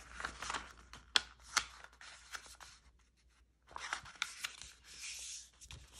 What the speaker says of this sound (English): we're going to fold it once, and then I'm going to fold it again